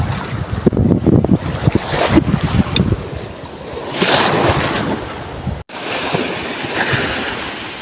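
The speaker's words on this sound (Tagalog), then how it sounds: "Ramdam nyo naman siguro yung hampas ng hangin at saka alon." Strong wind buffets the microphone while waves slap and rush around a fishing boat at sea in Palawan, loud and continuous with gusty surges.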